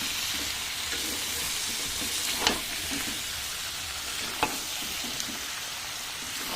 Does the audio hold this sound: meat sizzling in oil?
yes